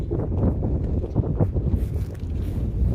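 Steady wind buffeting a microphone outdoors near a pond, a loud continuous low rumble with gusty swells throughout, no voices.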